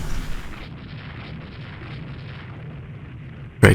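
Naval gunfire in the Rule the Waves 2 warship strategy game during a Japanese campaign battle, a steady rumbling wash of distant cannon fire ending in a sudden loud boom.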